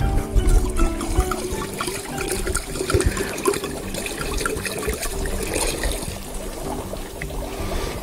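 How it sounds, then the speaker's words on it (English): A continuous glugging pour of wine from a bottle into a pitcher, close and fairly loud, with a steady rushing sound throughout. "just pour the whole thing in there."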